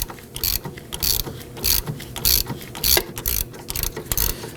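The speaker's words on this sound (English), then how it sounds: "I'll put a ratchet on the other side here." Ratchet wrench turning a bolt on the rear upper control arm of a 2005-2009 Subaru Legacy, a loud rapid clicking in repeated close bursts with brief pauses between strokes.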